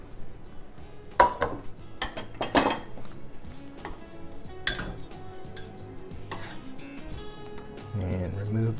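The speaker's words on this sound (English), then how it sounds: "And now we can just take everything out into our pan." Glazed sweet potatoes with tarragon being tipped into a pan: clattering pot and utensil knocks and scraping in irregular bursts, fairly close, with a voice talking throughout.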